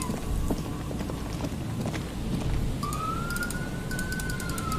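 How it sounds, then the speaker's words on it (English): An ambulance siren rises and holds a steady wail outside a window, moderately distant, over continuous room and street noise with scattered clicks. "There's also an ambulance right outside my window. Being loud and stuff."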